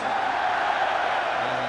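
A football crowd at a Celtic versus St Johnstone match in 1999 applauds the third goal, a steady, dense roar of distant applause filling the stadium without a break.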